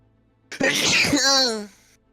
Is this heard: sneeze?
yes